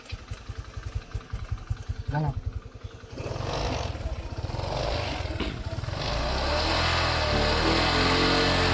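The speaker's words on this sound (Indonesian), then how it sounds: "Coba digas ya." A Honda SH150i scooter engine idles, then revs up loudly and holds a rising, steady drone, close by.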